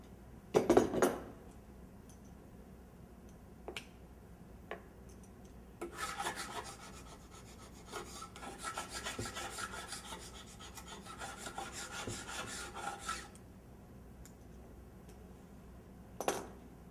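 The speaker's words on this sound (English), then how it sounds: "Scrape underneath where the clamp had been and replace the clamp." Paint scraper rasping dried glue off a glued-up solid wood panel, a faint steady scraping and rubbing stretch with a few separate knocks and clinks before and after.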